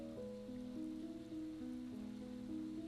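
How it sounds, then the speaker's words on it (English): Steady rain patter, soft and continuous, runs through the whole stretch over sustained droning musical tones; no one speaks. "Can you hear the rain?"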